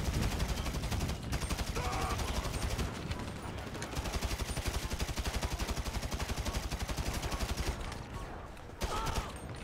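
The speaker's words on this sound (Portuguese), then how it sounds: "A Green tá atirando na gente, cara" Rapid automatic gunfire rattles continuously in a GTA V match, loud and close with bursts running almost the whole time, while a voice speaks briefly over the shooting.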